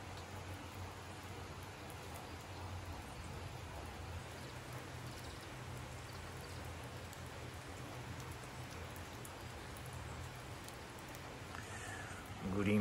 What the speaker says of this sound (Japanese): 丸一日雨が続いてます。